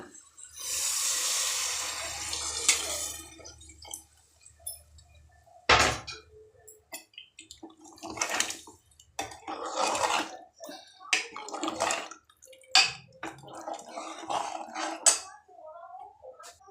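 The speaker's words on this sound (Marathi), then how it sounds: "आता यात पाणी टाकून घेऊया." Water pours into a pot for a few seconds with a gushing hiss, followed by clinks and knocks of utensils and kitchen activity.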